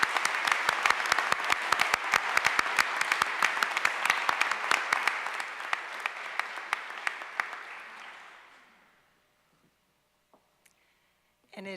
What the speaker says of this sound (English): join me in another round of applause for our 3 outstanding honorees